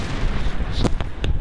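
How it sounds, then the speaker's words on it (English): Enemies bursting apart after being killed in Resident Evil Revelations 2: three short, sharp pops land in quick succession over a rumbling game backdrop. "Oh, they explode after they're killed."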